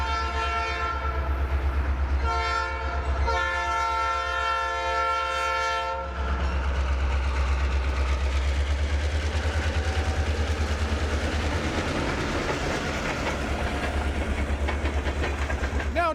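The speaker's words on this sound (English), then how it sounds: "I came across one of the Indiana and Ohio trains" An Indiana and Ohio short line freight train passes close by in Cincinnati, its horn sounding loudly in several long blasts before the engine rumbles past and the rolling cars continue with steady rail noise.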